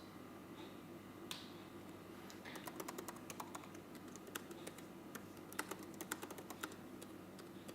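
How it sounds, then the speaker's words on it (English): Fast, irregular typing on a computer keyboard, with crisp key clicks clustered in bursts over a steady low background hum. "I shouldn't be typing here"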